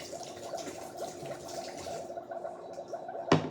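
Water poured into a container with soft gurgling and trickling throughout, steady and fairly quiet, ending in a brief louder splash or knock near the end.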